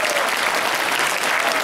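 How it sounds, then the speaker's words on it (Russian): Applause from an audience at a closing event, a dense steady wash of many hands clapping at full volume for the whole stretch, with faint voices mixed in. "Хлопайте."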